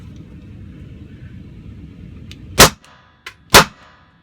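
Two loud, sharp pistol shots from a Beretta PX4 Compact fired one-handed at a range, about a second apart, with a fainter click or distant report between them over low background rumble.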